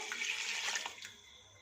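Tap water runs steadily into a cooking pot, about two cups for an aloo gosht curry, a close, even rushing stream that fades near the end.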